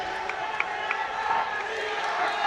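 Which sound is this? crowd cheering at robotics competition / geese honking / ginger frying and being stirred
crowd cheering at robotics competition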